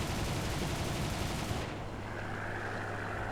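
Dense, continuous machine-gun fire from an Mc 205N2 fighter aircraft in a video game, a loud sustained rattle for about a second and a half before it cuts to a steadier engine-like drone.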